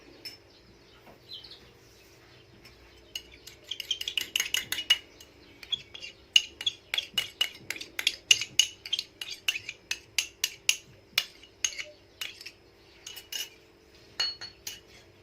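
Coconut being mixed with diluted food colouring in a bowl, a spoon or utensil scraping and clinking against the bowl in a steady rhythmic run of sharp close taps with no talking.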